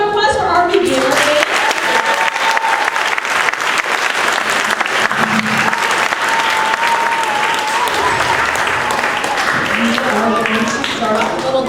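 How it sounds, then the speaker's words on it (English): An elementary school concert audience applauds the beginner band, loud sustained clapping from a full room with crowd noise and a voice speaking briefly at the start and again at the end. "Let's have one more round of applause for our beginner"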